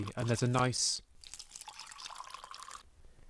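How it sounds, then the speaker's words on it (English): Water poured into a mug of instant coffee, a soft steady trickle lasting a couple of seconds just after a short burst of speech. "I've got pouring water into a mug of instant coffee"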